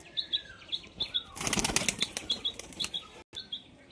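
A male pigeon is released onto the loft and its wings flap in a loud, close burst, with a few light chirps around it.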